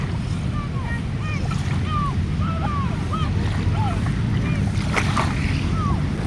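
Sea waves wash steadily onto the shore at Dolomite Beach in Manila Bay, a loud continuous surf roar with wind buffeting the microphone and bird calls chirping above it.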